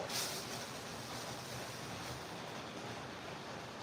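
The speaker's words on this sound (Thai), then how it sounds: "ขึ้นไปล้างแผงโซลาเซลล์นะคะ บนหลังคา ก็เปิดน้ำล้างเบาๆแหละไม่คิดว่ามันจะดังขนาดนี้นะคะ" Water from a hose sprays steadily across solar panels on a house roof, a loud continuous hissing rush with no break, close to the microphone and heard alone.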